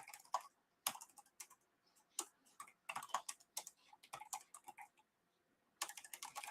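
Clicky computer keyboard typing comes in close bursts of rapid sharp keystrokes with short pauses between runs, alone and without talk.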